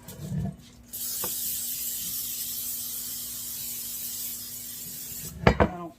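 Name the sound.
cooking spray sprayed onto a pan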